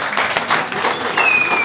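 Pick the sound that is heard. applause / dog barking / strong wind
applause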